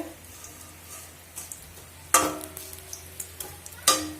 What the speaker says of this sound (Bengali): এই দেখো মাছ ভাজা হচ্ছে